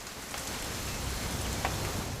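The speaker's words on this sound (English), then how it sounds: "It's gonna rain the whole weekend, isn't it?" Steady rain falls in the video game What Remains of Edith Finch, an even, moderate patter with faint scattered drips and no speech.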